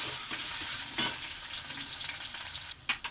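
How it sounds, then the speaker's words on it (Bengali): Steady crackling sizzle of potatoes frying in a pan, with a couple of brief stirring scrapes near the end. "আমার আলুটা একটু লাল লাল করে ভাজা হবে"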